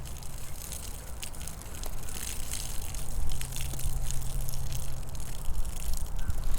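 Salt water pours steadily into a tie-dye bottle, a continuous gushing, splashing rush that grows slightly louder as it fills, with no talking.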